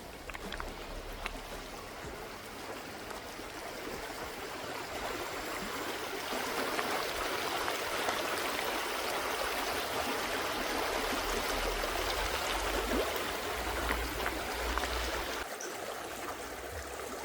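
A river flows steadily outdoors in nature, a continuous broad rush and gurgle of moving water that holds a fairly even level throughout, with no voices.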